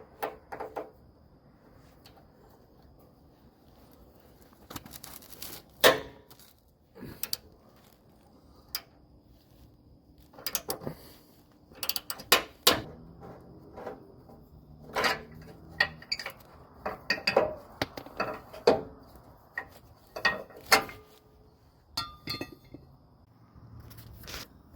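A ratchet loosening a nut on a skid plate bracket while an air dam delete skid plate is installed under a vehicle; faint, scattered metallic clicks and clinks sound in short bursts with quiet gaps between them.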